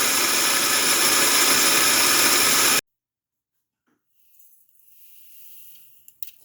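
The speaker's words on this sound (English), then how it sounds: "I'm going to grind them up in my food processor to make oat flour." Food processor grinding old-fashioned oats into oat flour, a loud, steady whirring roar that cuts off abruptly, followed by near silence and faint handling noises.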